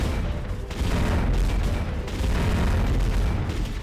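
Dense, continuous video-game gunfire from a 12-round shotgun, heavy booming blasts overlapping one another at close range for the whole stretch, loud and without pauses.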